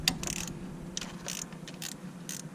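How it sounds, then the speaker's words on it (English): An 8mm ratchet wrench loosens a battery terminal on a 2003-2007 Silverado/Sierra pickup, with bursts of quick ratcheting clicks up close, several short runs separated by brief pauses. "I'm using one of these ratchety wrench 8mm."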